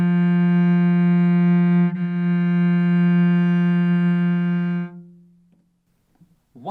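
One long, full-bodied cello note rings out loud and steady, with a slight bow change partway through, then stops and decays into silence.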